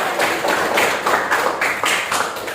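A classroom of students claps in short bursts, several quick rounds of hand claps at close range with brief gaps between them.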